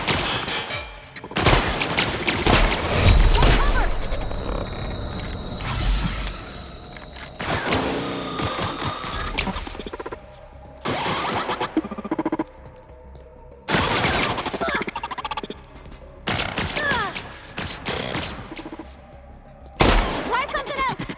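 Heavy-recoil gunfire in The Outer Worlds comes in loud bursts and volleys separated by short gaps, spread across the whole stretch, with a voice talking between shots.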